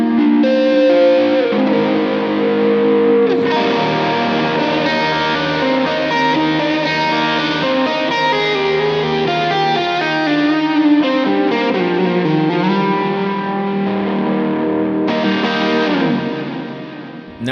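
A Gibson Les Paul electric guitar plays a ballad with a distorted, effects-laden lead tone, sustained melodic notes and bends running continuously at a loud, even level without any voices.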